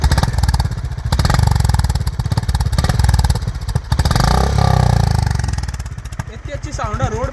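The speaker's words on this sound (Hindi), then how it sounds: "अभी मैं आपको थ्रॉटल दिखा देता हूँ इसका कितना बढ़िया है।" A warm Honda CB350 RS motorcycle idles with a throbbing, close-up thump, then the throttle is blipped into a rising rev that settles back, while someone talks over it.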